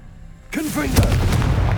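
A Confringo blasting curse in Hogwarts Legacy bursts loudly into a booming explosion after a brief quiet moment, with a short spoken fragment at the start of the blast.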